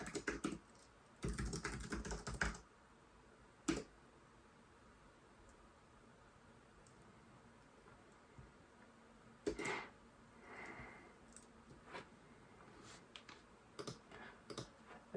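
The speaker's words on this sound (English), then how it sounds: "If we type something simple" Keys clatter on a computer keyboard in a quiet room, a quick burst of typing at the start, then scattered single clicks and short runs of keystrokes with pauses between.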